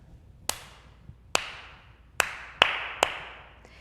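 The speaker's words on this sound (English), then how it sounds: "Every time you hear Papa Bear's name in the story, we're going to clap this rhythm." Five sharp hand claps ring out in an uneven rhythm, two slow and spaced, then a quicker pair and a final clap, each crisp and fairly close with a short decay.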